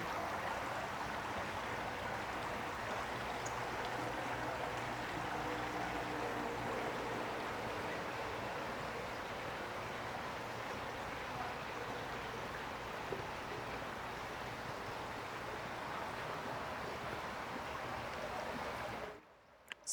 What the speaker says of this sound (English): I don't know if you guys can hear like just how lovely it is, the sound of running water.